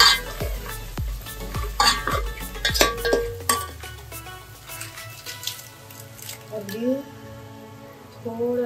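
Malvani red masala is stirred in oil in a pan for crab curry, a spoon clattering sharply against the metal several times before quieter stirring and a faint sizzle, with someone talking throughout.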